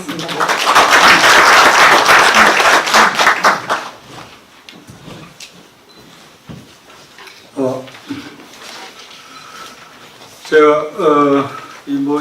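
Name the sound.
audience applause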